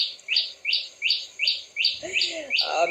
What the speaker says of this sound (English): we have some participation from Cambodian birds here